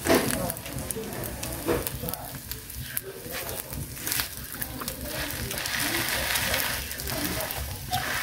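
A smoked omelette fries in a pan over a firewood fire in an outdoor village kitchen, giving a continuous close crackling sizzle with occasional scraping and people talking nearby.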